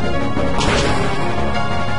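Avalanche attack sound effect from the Pokemon Platinum video game: a single loud crashing smash about halfway through, over a dense rumbling game soundtrack, with no talking.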